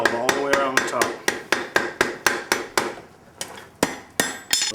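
Hammer blows ring on an anvil while shaping a coal-fire forge weld, a steady run of sharp, loud, close strikes about every quarter second, with a short pause near the end before the rhythm resumes.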